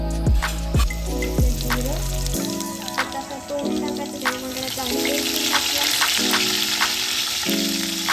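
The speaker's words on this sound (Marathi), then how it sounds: "बघा ग्रेव्ही फ्राय केलेल्या कांदा टोमॅटोची ग्रेव्ही" Mushrooms dropped into a pan of fried onion-tomato gravy burst into loud, crackling sizzle, with a few sharp clatters at first and then steady bubbling frying noise close up.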